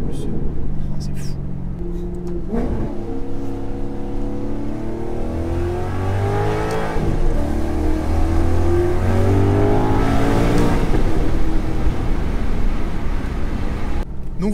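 Maserati MC Stradale engine in Gran Turismo Sport, revving steadily through the mid range with rising and falling pitch, loud and continuous for most of the clip, with a voice talking faintly over it.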